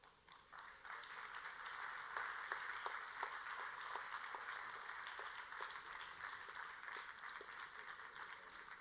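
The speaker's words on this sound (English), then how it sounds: "I thank the audience for the so many applauds." A conference audience applauds, a soft, steady patter of many hands clapping that lasts several seconds at a fairly distant, low level.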